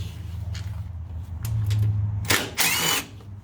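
A power drill backs screws out of the plastic cover on a Gravely zero-turn mower: a low motor hum, then loud, close, whirring bursts, the last one longest.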